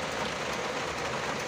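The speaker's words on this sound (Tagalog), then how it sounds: "malakas yung ulan" Heavy rain pours down in a steady, dense hiss, moderately quiet and unbroken throughout, with no voices over it.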